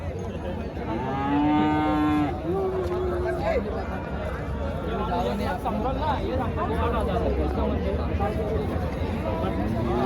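A cow lets out a long, loud moo close by at a livestock market selling bulls in Vadod, followed by a crowd of people talking and chattering over a busy outdoor din.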